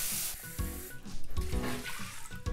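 Water pours into a pot of rinsed Japanese rice for a firm 1:1 cook, a steady close splashing and trickling with no talk.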